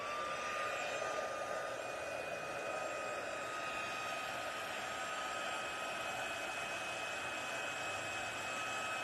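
Heat tool blowing hot air over embossing powder on cardstock, a steady hair-dryer-like roar with a faint whine, constant and close throughout.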